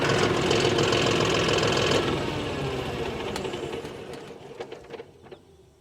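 A John Deere 5405 CRDi tractor's diesel engine chugs with a rhythmic knock, then fades and grows quieter while a few sharp clicks and faint bird chirps come through near the end.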